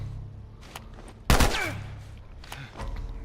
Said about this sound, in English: So Tess can do quite well with the shooting on her own